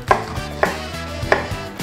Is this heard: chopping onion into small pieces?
yes